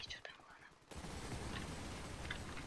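Gunfire in the Ravenfield video game bursts in after a near-quiet start with faint whispery sounds, then a dense, continuous rattle of rapid shots fills the rest, moderately loud and unbroken.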